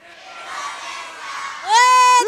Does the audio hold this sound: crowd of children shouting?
yes